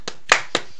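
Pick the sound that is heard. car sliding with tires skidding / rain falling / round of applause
round of applause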